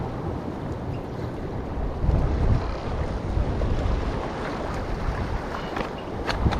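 Steady wind buffets a fishing boat out on the water, a continuous low rumble with gusts swelling around the middle, and no one speaking.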